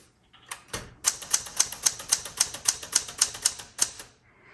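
Crisp, rhythmic keystrokes on a 1973 Galaxie Twelve manual typewriter, a steady run of about a dozen sharp strikes close to the microphone, with no voices.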